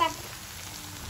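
Potato chips frying in hot oil for an Andhra-style veg thali, a steady soft crackling sizzle that holds evenly throughout, fairly quiet and close, with no voices over it.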